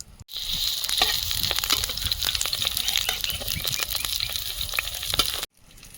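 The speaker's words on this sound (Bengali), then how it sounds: "বড়াগুলো ভাজা হয়েছে তুলে নিচ্ছি" Pumpkin flower fritters frying in hot oil in a wok, a continuous close sizzle with crackling pops and occasional stirring scrapes, no talking.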